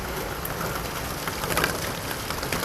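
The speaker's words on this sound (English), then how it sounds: "And it just started raining," Rain pours steadily onto the ground near a gutter downspout drain pipe, an even broadband hiss with faint droplet taps, slightly swelling midway.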